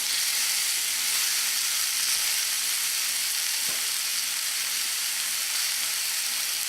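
Shiitake mushrooms frying with pork give a steady, close, even sizzle and hiss that carries on unbroken throughout.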